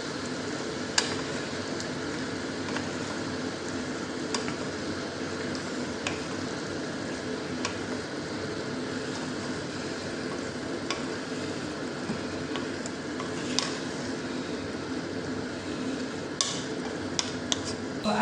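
Beef tripe is stirred in a cooking pan, giving a steady, close sizzle with wet squishing and scattered sharp clicks of the utensil against the pan, all without talk.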